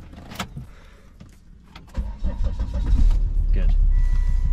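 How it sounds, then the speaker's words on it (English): A Volvo XC90's engine is started: after a couple of seconds of sparse clicks and clunks, the starter turns over and the engine catches into a loud, steady running rumble close by. "I'm gonna start the engine again"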